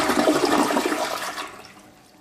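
A Fluidmaster toilet flushes in a loud rushing surge of water that gradually fades into a quieter draining trickle, heard alone without talking.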